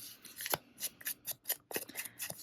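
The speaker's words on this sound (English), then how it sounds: "Maybe we'll cut this a little bit." Scissors snip through paper for a junk journal in a steady run of about eight to ten crisp, close cuts, each a short sharp crunch with no talking.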